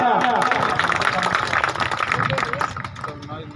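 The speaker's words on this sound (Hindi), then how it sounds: "जोरदार तालियां" An audience claps at a stage event during a Sundarkand recitation program, the applause loud and sustained while a voice speaks over it, the clapping fading slightly toward the end.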